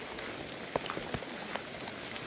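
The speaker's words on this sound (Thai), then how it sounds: "ฝน ตกหลาย" Rain falling in a steady, soft hiss, with a scattering of sharper drops tapping a nearby surface at irregular moments, fairly quiet and without voices.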